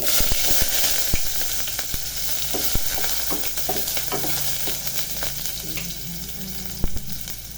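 Onion sizzling loudly in a hot pan for chicken stew, a dense continuous frying hiss broken by sharp scraping clicks of a utensil stirring, close and alone without talk.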